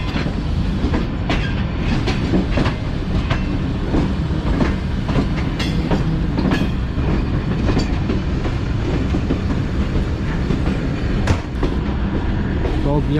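A Pakistani passenger train rolls along the rails with a loud, continuous rumble, rhythmic clickety-clack of wheels over joints and occasional metallic clanks, heard close from on board.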